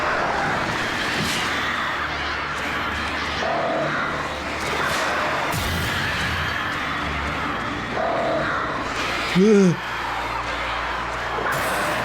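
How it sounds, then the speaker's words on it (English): Crows caw in the video game Alan Wake, the clearest being one loud, harsh call near the end. It rises above constant game ambience, and a player talks over the sound. "Fucking birds."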